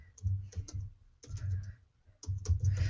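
Someone types on a computer keyboard in a dark room, producing quick bursts of close, soft key clicks separated by short pauses.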